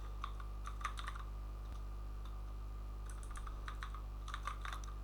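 Code typed on a computer keyboard, quick bursts of close, light key clicks separated by short pauses over a low steady hum.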